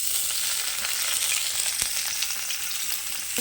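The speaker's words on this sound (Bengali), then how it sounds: "এখন আমি তেলে দেব কুচিয়ে রাখা পেঁয়াজ আর থেতো করা রসুন" Chopped onion and crushed garlic fry in hot oil for pumpkin-leaf greens, giving a steady, close, dense sizzle that holds evenly throughout with no voices.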